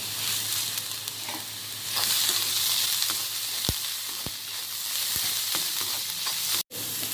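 Sliced onions and curry leaves fry in oil in a pan while cooking pepper chicken, giving a steady close sizzle with a few stirring clinks and scrapes and no talk.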